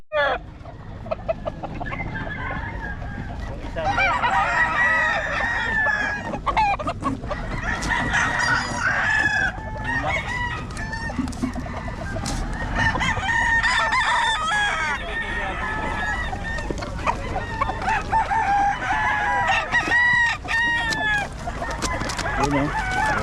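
Many roosters and chickens at a crowded gathering crow and cluck over each other, with repeated overlapping cock-a-doodle-doos near and far, a dense, busy din of fowl and scattered voices throughout.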